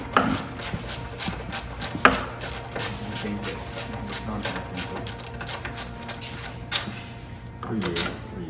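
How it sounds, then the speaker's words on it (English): A 9/16 inch wrench ratchets on a bolt while a mount is being removed, producing repeated close clicking strokes in irregular bursts with occasional metallic knocks and some faint voices. "It's probably a 9/16 inch wrench, Sam?"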